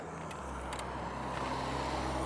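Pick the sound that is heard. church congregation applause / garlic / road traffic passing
road traffic passing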